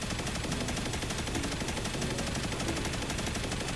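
The Heir Apparent machine gun in Destiny Rising fires continuously in a steady, rapid stream of loud shots with no pause for the whole stretch, with no talking.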